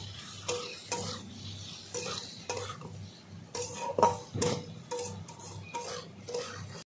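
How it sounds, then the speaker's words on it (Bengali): Soybean and raw papaya curry being sautéed and stirred in a pan, with repeated scraping and clinking of a spatula against metal over a faint sizzle, steady and close, without talk. "ভালো করে 2-3 মিনিট ধরে কষিয়ে নেব এইভাবে"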